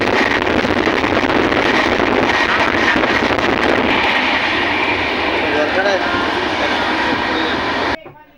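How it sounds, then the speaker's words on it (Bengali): A moving train heard from inside a carriage produces a dense, steady rumble and wind-like roar that holds constant before cutting off abruptly near the end. "ট্রেন ছেড়ে দিয়েছে, সবে ট্রেনটা ছাড়লো। তো যাচ্ছি ট্রেনের মধ্যে"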